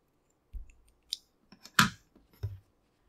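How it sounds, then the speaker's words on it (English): Scissors snip yarn during a crochet session, a handful of sharp, close clicks and short cuts spaced irregularly over a quiet background, with a few soft handling thumps between them. "Now we're ready to cut the yarn of the first color."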